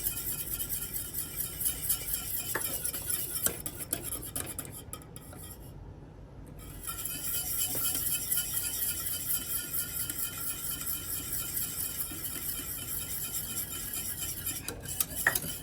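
A spoon scrapes and clinks steadily against a metal pot while stirring thick corn flour dough, a continuous close scraping with occasional sharper knocks and no talking.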